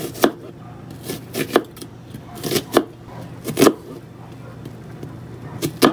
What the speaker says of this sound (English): We'll be mincing, not too small of mince, but a decent size slice.